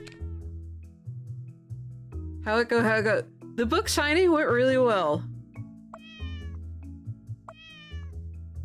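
A cat meows in a few loud, drawn-out, wavering cries near the middle, followed by a couple of fainter high mews, while someone talks over a low background hum.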